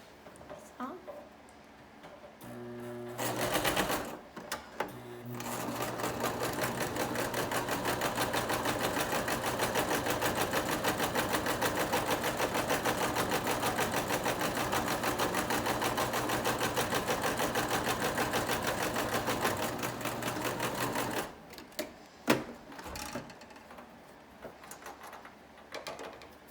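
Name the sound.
sewing machine stitching fleece mittens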